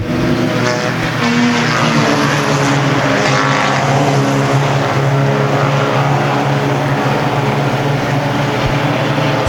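Hornet class race cars roar around a track in a feature race, a loud, continuous engine drone with overlapping motors and no pause.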